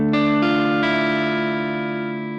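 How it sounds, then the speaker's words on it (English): Electric guitar run through a pedal's lo-fi mode with overdrive and compression, three strummed chords in quick succession ringing out together into a dark, slightly gritty sustain that slowly fades, with no talk. "it's adding a little bit of overdrive and compression and makes the guitar a bit darker."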